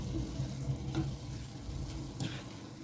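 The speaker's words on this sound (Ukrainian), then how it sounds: "Перемішую, смажу на середньому вогні приблизно 2-3 хвилинки" Steady sizzling from a frying pan over medium heat with a few scraping stirs of a utensil, close by, continuous throughout.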